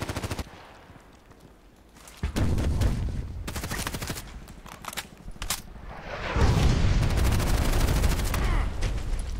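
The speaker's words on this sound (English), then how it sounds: "Oh, mortar, nice." Gunfire and mortar fire in the online shooter Contract Wars: loud rapid automatic bursts stop and start, then give way to a heavy, rumbling barrage of blasts that continues to the end.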